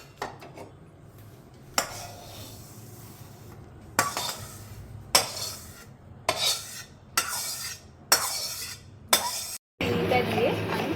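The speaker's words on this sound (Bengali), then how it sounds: "সুজিটা এইভাবে নেড়ে নিতে হবে যাতে নিচে লেগে না যায়।" Semolina being stirred and dry-roasted in a pan, a run of scraping strokes and metallic knocks of the spoon against the pan at irregular intervals, close up, with some voice in the background.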